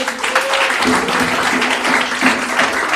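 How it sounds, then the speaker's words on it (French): A church congregation applauds during an Easter Sunday service, steady dense clapping with a sustained tone, likely from an instrument, and voices mixed underneath. "Applaudis la présence de Dieu."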